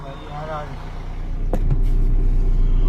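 Vehicles approaching along a road, a low engine rumble growing steadily louder and closer, with someone talking over it.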